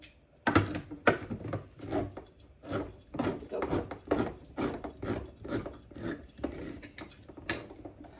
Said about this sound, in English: I need to get a can opener.